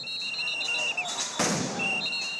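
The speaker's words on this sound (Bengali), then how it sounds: "শাহবাগ মোড়ে আন্দোলনরত শিক্ষকদের ছত্রভঙ্গ করতে পুলিশের সাউন্ড গ্রেনেড নিক্ষেপ" At a protest by teachers at the Shahbag intersection, a police sound grenade gives a single loud burst. The blast cuts through steady crowd noise, whistle-like tones and ongoing speech.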